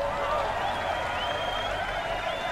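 A game crowd applauds and cheers in Road 96: steady dense clapping with a raised murmur of voices and whistle-like tones running evenly throughout.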